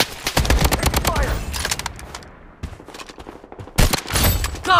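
Rapid bursts of automatic gunfire from enemies in the Blood Strike mobile shooter, loud and close, in dense volleys with brief pauses, with some voice audible underneath.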